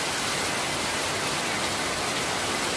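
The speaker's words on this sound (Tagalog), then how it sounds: "Lakas ng ulan, guys. Grabe." Heavy rain pours down in a dense, steady broadband hiss that fills the whole stretch evenly and fairly loudly, with no voices over it.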